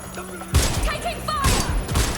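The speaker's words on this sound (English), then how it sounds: "Shots fired! Shots fired!" Gunfire from the video game Watch Dogs Legion, with loud sharp bursts of shots under game voices and sirens, close and punchy.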